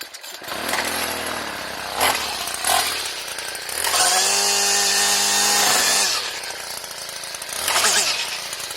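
A four-stroke weed eater engine runs on gasoline nearby, idling roughly then revving up to a loud sustained whine for a couple of seconds before dropping back, with further blips of throttle.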